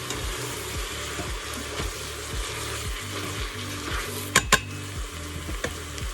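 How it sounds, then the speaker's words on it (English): Spoon stirring French onion soup in a pot after Worcestershire sauce goes in, a steady sizzle with repeated rhythmic scraping strokes and a couple of sharp clinks near the end. "Let's go ahead and give that a stir."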